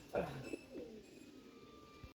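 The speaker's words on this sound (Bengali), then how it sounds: "নামতেছে কবুতর এই যে একটা আসছে" Pigeons coo softly from close by on a rooftop where homing pigeons are landing after a flight, a few low rolling calls over a quiet background.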